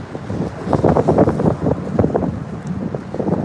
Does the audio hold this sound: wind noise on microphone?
yes